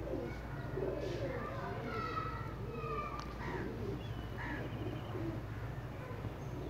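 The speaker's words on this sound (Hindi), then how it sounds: "मैं अपने कुछ प्रवासी कबूतरों का शौक़ करा रहा हूं।" Pakistani spotted-netted flying pigeons cooing softly in a loft, low rhythmic coos under a steady background hum with faint chirps, distant and quiet throughout.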